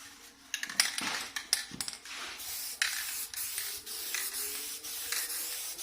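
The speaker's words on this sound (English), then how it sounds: "We'll spray a little bit more on this area just so you can see." Black guide coat sprayed from an aerosol can onto a fiberglass hood for a 1969 Camaro, heard as close, repeated hissing bursts separated by short pauses, with no talking.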